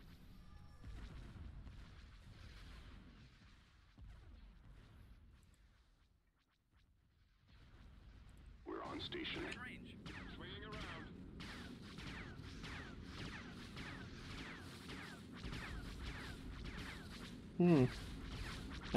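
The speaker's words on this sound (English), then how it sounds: "That's an odd sounding laser." Laser weapon fire in the space strategy game Empire at War, with a rapid, steady train of pulsing zaps starting partway through after quieter ambience, plus a brief louder burst near the end and some speech.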